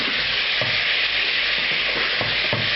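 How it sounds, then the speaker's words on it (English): Chopped celery fries in a hot pan for salsa bravas, making a constant loud sizzle with occasional soft knocks and scrapes as the pieces are stirred, and no talking. "I'm also going to add the celery to this."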